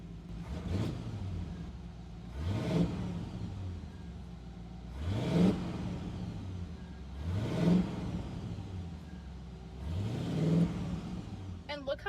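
An old truck engine runs and is revved five times in a regular rhythm, each rise and fall clearly audible over a moderate, continuous running note.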